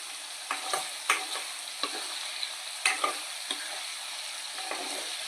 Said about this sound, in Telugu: ఇలా నెమ్మదిగా మనం వేపుకోవాలండి.